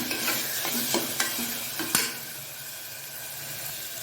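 Ginger garlic paste fries in a pan for a black chickpea kulambu, with quick spatula scrapes over the first two seconds that then settle into an even, close sizzle.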